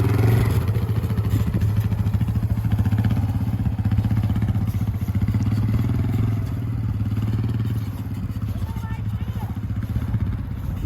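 Four-wheeler ATV with a manual clutch pulling away in first gear, its engine chugging in a fast steady pulse close by, rising slightly then easing off, with an instructor's voice coaching over it.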